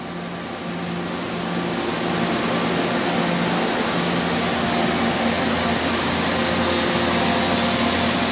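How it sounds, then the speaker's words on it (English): A 2012 Mazak Integrex i-300 Type 2 SR 1500 machining center with a GL-200 gantry loader runs with a loud, steady mechanical whir and airy hum that rises slightly and then holds constant, with no voices. "MAZAK INTEGREX i-300 Type 2 SR 1500 with the GL-200"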